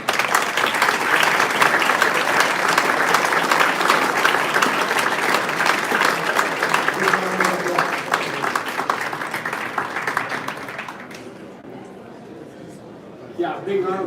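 Sustained applause from an audience at a Vis Moot international arbitration moot competition round, dense steady clapping for about ten seconds that thins and fades, with a voice speaking briefly near the end.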